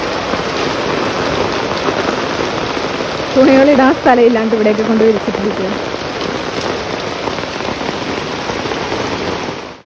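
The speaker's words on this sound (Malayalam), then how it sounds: "നല്ല മഴയാണ്" Heavy rain pours steadily nearby as a broad, continuous wash of sound, with a person speaking briefly over it midway.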